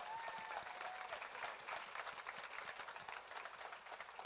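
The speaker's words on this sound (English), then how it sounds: "Let's give him another big hand of applause." Audience applause at a film festival awards ceremony, a steady wash of clapping from a crowd that sounds somewhat distant and muffled, with faint voices mixed in.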